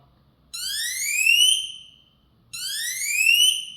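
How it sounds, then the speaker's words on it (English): Emergency siren of a Samsung Galaxy Watch Ultra: two rising electronic whoops, each sweeping upward and swelling louder over about 1.5 seconds, with a brief pause between them, up close and alone. "And here's the siren."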